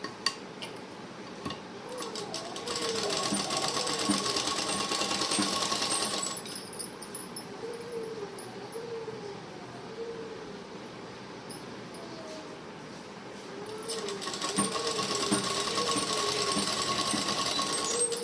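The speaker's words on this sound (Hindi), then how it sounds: "उसके बाद यहाँ पे मैं सिलाई लगा लूँगी" A sewing machine stitches a pant with elastic in two long close runs of rapid rattling needle strokes, separated by a quieter stretch with light handling sounds.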